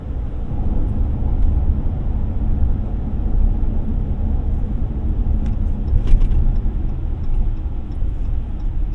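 A 2019 Dodge Ram Rebel crew cab pickup accelerates up to speed, a steady deep engine and road rumble filling the cabin with no talking.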